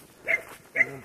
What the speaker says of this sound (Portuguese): E cachorro para achar caça no mato.